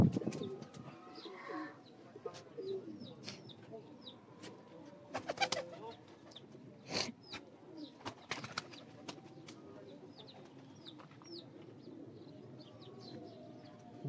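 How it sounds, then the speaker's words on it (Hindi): Breeder pigeons kept by Raja Jamil near Rawalpindi cooing softly in a loft, a faint layered murmur of coos with scattered chirps from other birds, steady throughout at low volume. "5 नंबर ब्रीड ऑफ राजा जमील, मज़राबाद रावलपिंडी के ब्रीडर कबूतर"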